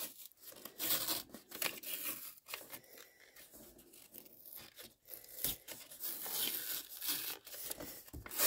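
Paper is torn and peeled away from foam in a dollhouse build, a run of soft ripping and crinkling bursts with brief pauses, close and quiet, with no talking.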